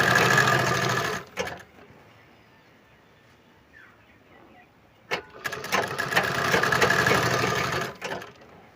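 A sewing machine stitches a sherwani, running loud and close in two steady bursts with a near-silent pause between them and no talk.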